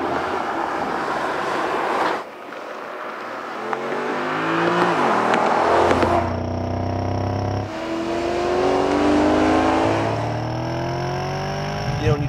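A 2013 Porsche Panamera GTS drives along a winding mountain road, its engine rising in pitch through repeated accelerations with gear changes between pulls, loud and close, with no talk over it.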